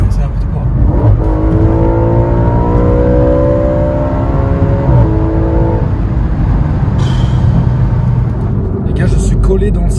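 An Audi RS4 with a V8 engine accelerates hard, a loud rising drone heard from inside the car that climbs steadily in pitch for several seconds, then settles into a steady roar with a brief high hiss.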